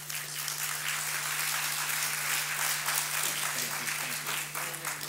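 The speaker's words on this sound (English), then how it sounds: "Please give a hand to Rosa DeLauro." Crowd applause for Congresswoman Rosa DeLauro at a policy forum, steady dense clapping that fills the room, with a low electrical hum underneath.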